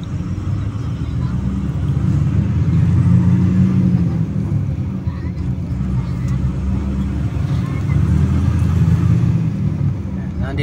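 Car engines rumble and idle in heavy stop-and-go traffic at Lucena City Grand Terminal, a loud continuous low drone with occasional revving, heard from inside a vehicle while people talk over it.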